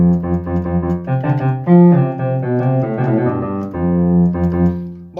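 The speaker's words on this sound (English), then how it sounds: "it's having a piano sound because I chose percussive piano" A Yamaha Electone H5 electronic organ plays a chordal melody with a bright, percussive piano-like attack on each note, steady and fairly loud with no voices.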